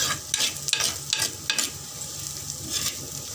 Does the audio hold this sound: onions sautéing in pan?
yes